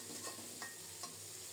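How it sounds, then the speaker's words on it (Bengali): Hilsa fish heads rubbed with salt and turmeric fry in hot mustard oil, giving a quiet, steady sizzle with a few soft stirring clicks close by; no voices. "গরম তেলে দিয়ে দিলাম, লাল লাল করে ভেজে নেব।"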